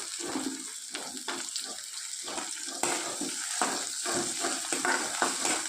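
Chopped tomatoes and curry leaves fry with softened onions in a pan, giving a steady close sizzle broken by scraping stirs and faint watery sloshes; no voices.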